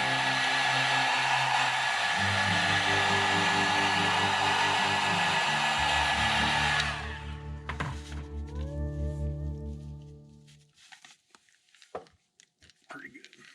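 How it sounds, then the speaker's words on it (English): A heat gun blows steadily with a loud, broad roar while heat-setting fresh paint on a custom Pineapple-colored Bandit fishing bait, then cuts off around the midpoint, leaving a short low hum and some faint handling knocks. "Do a quick heat set"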